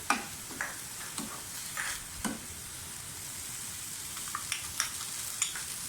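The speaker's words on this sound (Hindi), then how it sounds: "ये सब डालकर अच्छी तरह से भूनें।" Spiced minced meat sizzles steadily in a pan, a soft constant frying hiss with scattered faint clicks and scrapes of a spoon, no talking.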